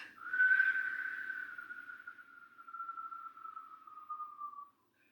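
A single sustained lip whistle, quiet and close, holding a pure tone for over four seconds while gently drifting downward in pitch before stopping, with near silence around it.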